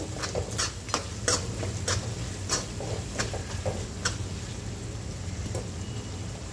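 Dal kanda stir-fried with goda masala in a pan, with repeated sharp clinks and scrapes of a spoon against metal over a low sizzle.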